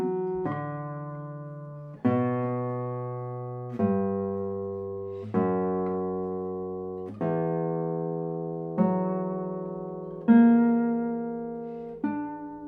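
Low plucked notes on the bass strings of a traditional Spanish classical guitar ring out one at a time, about every two seconds, each sustaining and fading with warm resonance, played alone.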